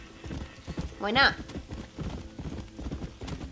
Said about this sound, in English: Horse! Jump up its butt.